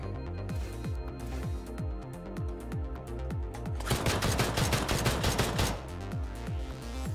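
Gunfire in the ANNO: Mutationem combat simulation, steady rhythmic shots over a looping game soundtrack, building into a denser, louder flurry of rapid fire midway before easing back.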